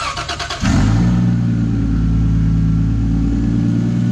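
A 2006 Chrysler 300 with a swapped Toyota 2JZ engine cranks briefly with a rapid whirring starter, then catches and settles into a loud, steady, deep idle up close.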